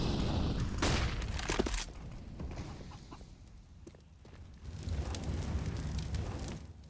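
Grenades go off during a Counter-Strike match on the Inferno map, heard as muffled game explosions and bursts with fire-like crackle, rising and fading over several seconds amid a busy in-game soundscape.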